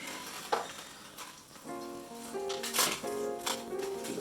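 Duck galantine sizzling steadily in a hot pan after being flipped, a constant frying hiss with light clinks of a utensil against the pan, close and moderately quiet.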